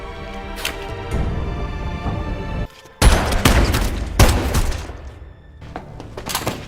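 Gunfire from a secret-agent action film scene: loud rapid bursts of shots and booms in close succession, with a brief silent gap before a heavier volley.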